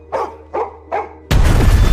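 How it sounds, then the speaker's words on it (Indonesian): A dog barks three times in quick, evenly spaced, loud close barks, followed by a sudden burst of heavy broadband noise like a crash or rumble. "anjing mereka tiba-tiba menggonggong."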